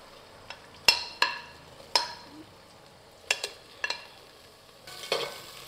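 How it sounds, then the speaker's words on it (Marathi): Onion and tomato sautéing in a pan for prawn biryani: a faint sizzle under a series of crisp spatula clicks and taps against the pan, some single and some in quick pairs, ending in a louder hissing stir. "कांदा, हे छान आपल्याला परतून घ्यायचं आहे, आणि टमॅटो."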